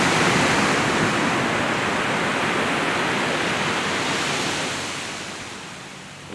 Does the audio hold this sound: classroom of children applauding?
no